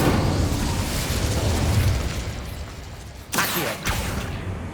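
Casting the Incendio fire spell in the game Hogwarts Legacy produces a loud roaring whoosh of flame, followed by two sharp bursts near the end, set against continuous game ambience.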